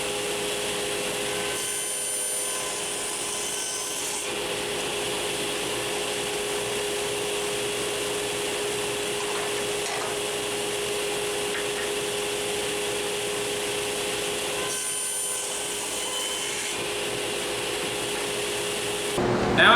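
Table saw running as a wooden workpiece is fed through against a flipped miter gauge, a steady loud whine with brief dips where the blade engages the wood, continuing alone for the whole stretch.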